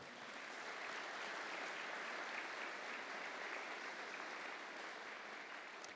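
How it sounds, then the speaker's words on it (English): A sustained round of applause at a school's state-of-the-school presentation, even and fairly soft, filling the room without any speech. "If we could have a round of applause for them."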